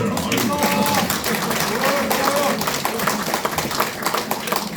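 A crowd claps at a campaign speech for a Dong-gu candidate, continuous brisk clapping throughout with cheers and voices mixed in.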